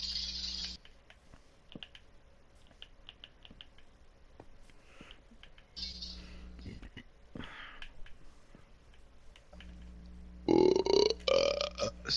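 A person lets out a loud, close burp during a cooperative Minecraft gaming session, over faint keyboard and mouse clicks, with bursts of nearby chatter before and after.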